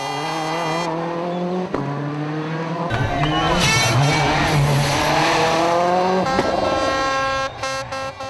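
A Peugeot 206 WRC rally car revs hard and accelerates through its gears, its engine note rising and dropping with brief shifts and some tire squeal, loud and close.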